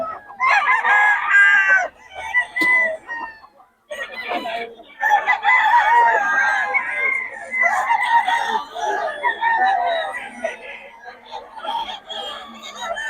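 Several chickens cluck and roosters crow loudly and close by, overlapping in a busy barnyard chorus with brief pauses between bursts.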